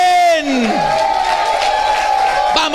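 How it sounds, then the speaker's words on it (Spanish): A church congregation applauds steadily throughout, a dense wash of clapping running beneath a loud voice that shouts and calls out over it. "Vamos, dele ese aplauso al Rey de Gloria"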